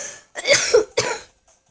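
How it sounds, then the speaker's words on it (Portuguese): Two or three harsh coughs in quick succession from one person, close and fairly loud, followed by quiet. "Galera, eu peguei uma tosse."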